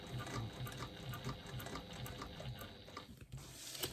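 A sewing machine runs a quarter-inch seam around a fabric wristlet, its needle thumping in a fast regular rhythm at moderate level before stopping near the end.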